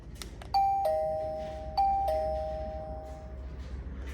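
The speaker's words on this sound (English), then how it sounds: "you're gonna put the chimes over here" A camera doorbell's indoor chime unit plays a two-tone ding-dong twice in succession, clear and fairly loud, each pair of tones ringing out and decaying over a low background hum, with no one speaking.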